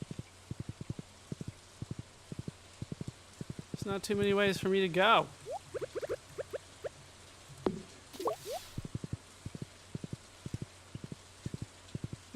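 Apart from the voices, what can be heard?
horse hooves clip-clopping in Stardew Valley video game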